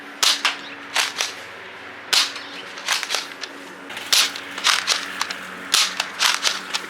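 Nerf Elite darts fired from an X-Shot Dread blaster, a string of sharp snapping shots in irregular bursts, about a dozen over several seconds, close and fairly loud with no talking.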